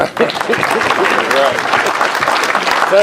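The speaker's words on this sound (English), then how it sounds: "let's give them a round of applause" An audience at a Cherokee Village Suburban Improvement District meeting gives a round of applause, steady dense clapping filling the room for the full three seconds, loud and close with a few voices mixed in.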